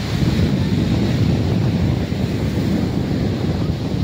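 Steady roar of sea waves washing in at Sulok Beach, General Nakar, Quezon, heavy low rumble with wind buffeting the microphone, no voices.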